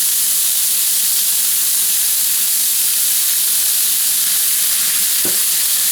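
Pepper steak ingredients sizzle loudly and steadily in smoking-hot olive oil, a dense continuous frying hiss close by, with a brief soft knock near the end.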